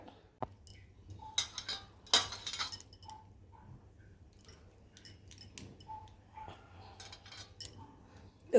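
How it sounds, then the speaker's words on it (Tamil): Chopped vegetables go into a pan already seasoned with asafoetida, giving light metallic clinks and taps of a spoon against the pan, sparse and quiet, with no voices. "அப்புறம் கட் பண்ணியிருக்கிற வெஜிடபிள்ஸையும் இது கூட போட்டுக்கிறேன்."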